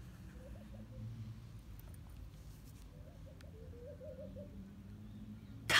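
A golden bird sings a few soft, cooing call phrases in a gentle storybook scene, faint and alone over a quiet background.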